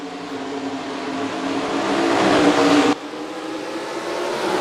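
Stock cars in the NASCAR Racing 2003 video game roar off at the start of a race at Myrtle Beach, a dense engine drone swelling loudly, cutting briefly, then building again.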